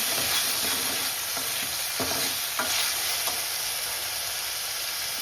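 A potato and green bean curry sizzles steadily in a pan while a spoon stirs it with a few soft scraping strokes, close and continuous with no talking.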